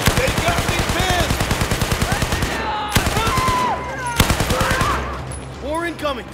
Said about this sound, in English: I'm firing!